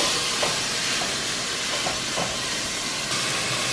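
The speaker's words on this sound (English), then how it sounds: "So you let that stir fry for a little bit, just to get all the sides." Beef sizzling as it stir-fries in a hot pan for lomo saltado, a loud, steady crackling hiss with faint scattered pops and clicks.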